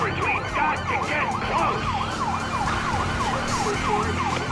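Wailing police sirens sound during a car chase in Grand Theft Auto V, a loud, rapidly sweeping yelp repeating continuously over rumbling vehicle engine noise.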